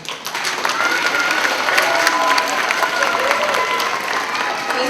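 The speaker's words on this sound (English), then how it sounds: "Give yourselves another round of applause." Applause from a school event audience fills the space with dense, steady clapping that stays loud and continuous throughout, with some crowd voices mixed underneath.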